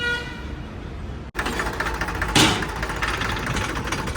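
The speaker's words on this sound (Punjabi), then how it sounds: "ਲੋ ਜੀ ਬਾਈ ਚੱਲਿਆ ਰੋਟਾਵੇਟਰ" A tractor-driven rotavator on a model 855 tractor: a steady humming engine tone, then after a sharp break a loud, dense broadband roar of the rotavator churning, with a brief louder surge partway through.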